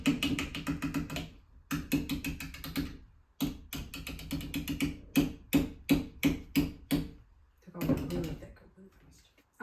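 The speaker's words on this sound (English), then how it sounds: "And now we're just gonna whisk this together." A whisk beats pumpkin pie filling in a bowl, giving rapid rhythmic clacking strokes in bursts with short pauses, close and fairly loud.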